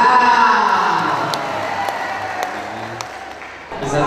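A crowd at a community gathering in Cimahi, Bandung, Indonesia applauds steadily, a dense wash of clapping that slowly softens, with a few cheers and a voice briefly rising near the end.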